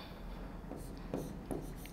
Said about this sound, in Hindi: देखो वापस लिखती हूँ